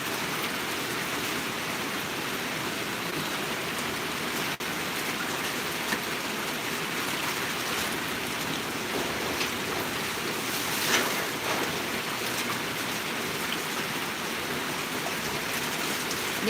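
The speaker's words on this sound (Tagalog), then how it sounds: "Di naman tingali ni mo undang ni ulan dire." Heavy rain pours down steadily through a rainy afternoon, a dense, even hiss that stays loud and unbroken from start to finish, with no voices.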